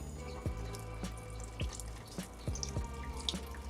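Water poured generously onto a potted plant with no saucer beneath, giving close splashing and trickling with several distinct glugging pulses as the flow hits soil and drains.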